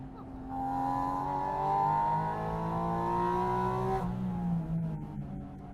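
A Porsche engine revs hard and climbs steadily in pitch for several seconds, then drops sharply as the throttle closes, loud and close.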